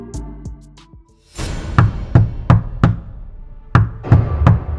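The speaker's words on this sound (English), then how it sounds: "A knock at the door startled them." Loud knocking on a motel room door, a run of sharp raps in two bursts, close and hard, preceded by a brief softer sound and no voices.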